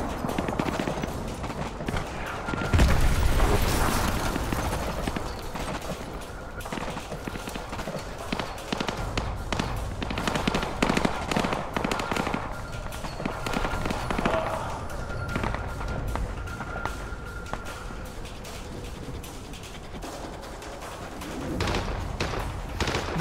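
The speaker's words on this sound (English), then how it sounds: "Those explosions are going to attract a lot of attention." Video-game combat in Call of Duty with Captain Price, rapid gunfire bursts and scattered explosions crackling over a continuous noisy battlefield din, with a heavy blast early on and voices talking intermittently.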